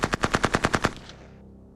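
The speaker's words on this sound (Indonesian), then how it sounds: "Dengar, dia menembak." A rapid burst of about nine automatic gunshots in a military shooter game featuring an abandoned army truck, loud and evenly spaced, then cut off and fading into a quiet ringing tail.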